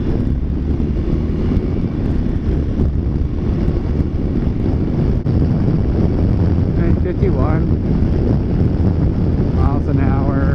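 Loud, steady wind rush on a Honda Rebel 300 fitted with a Slipstreamer windshield, ridden at the speed limit in cold weather, with engine drone beneath and a voice talking over it.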